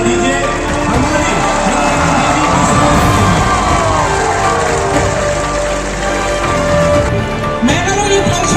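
A large crowd at a mass political gathering in Khumulwng cheers and claps in a dense, loud, continuous roar, with whoops and yells rising over the din and voices talking through it.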